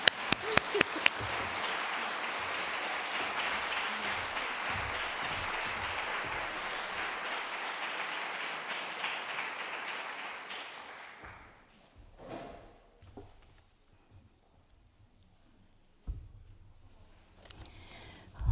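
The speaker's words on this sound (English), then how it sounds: "please give a round of applause to Allison and Ellen" An audience at a community dinner event claps in dense, sustained applause for about ten seconds before it thins out into scattered claps, thumps and room noise.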